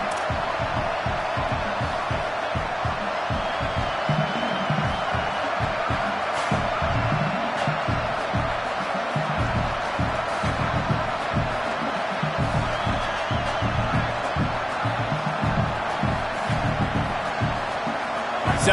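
A loud home football crowd roars and cheers continuously through a game, a dense wall of stadium noise with scattered whoops and shouts rising over it.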